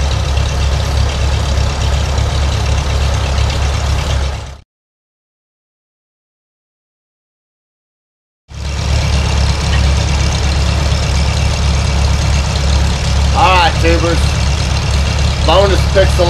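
A tractor engine runs at idle on a cold winter day, a steady loud low rumble that cuts out for a few seconds and then resumes, with brief squeaky tones near the end.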